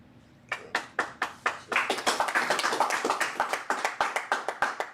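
A steady run of sharp hand claps at a Sabbath service, starting sparse and then quickening into a fast, even rhythm as more hands join in, fairly close and loud.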